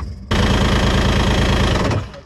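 A Chevrolet El Camino engine cranks and fires on a jump pack, then settles into a loud, steady idle with a rough, knocking pulse before cutting out near the end.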